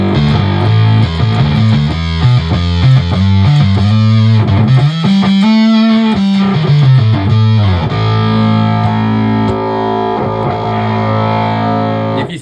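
Bass guitar played through a Behringer Bass Brassmaster octave pedal set to its fullest brass-and-harmonic blend, giving loud, thick, distorted synth-like notes in a melodic line followed by a long sustained chord.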